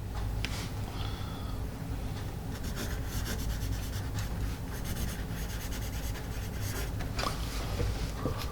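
Sargent Art pencil scratching and rubbing across paper in steady, continuous strokes, close and fairly quiet, with a few sharper scrapes along the way.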